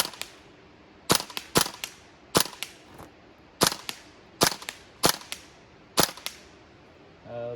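A WE-Tech M16A3 airsoft rifle fires at Mountain Dew bottles outdoors in about ten sharp, loud, separate cracks, some in quick pairs and others spaced irregularly, with quiet gaps between them and a faint mechanical clank at the end.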